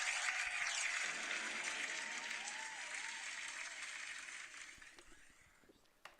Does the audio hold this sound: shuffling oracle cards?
no